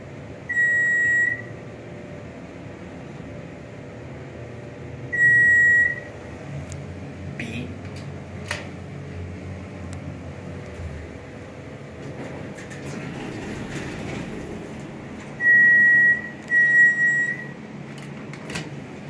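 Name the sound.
hydraulic elevator running in a parking garage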